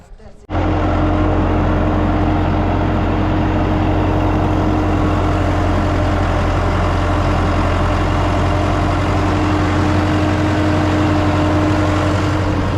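A tractor engine runs steadily and loudly close by, a constant low droning idle with a strong rumbling hum that starts abruptly and continues unchanged for the whole stretch, with no talk audible.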